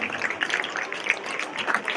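Thin, scattered clapping from a small portion of an audience at a Ganesh festival drama event, a light, uneven patter of few hands, faint and close to the background.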